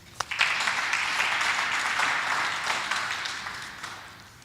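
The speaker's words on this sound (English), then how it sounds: "I request that we give them a round of applause" A crowd at a ministerial infrastructure opening applauds steadily, dense clapping filling the space for several seconds after a few sharp initial claps, fading slightly toward the end.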